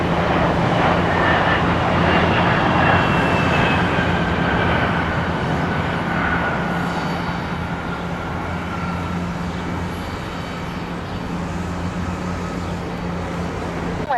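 An airliner rolls for takeoff on a runway at Columbus airport, its engines giving a loud, sustained roar with a steady low hum and faint rising whine that stays broad and constant throughout.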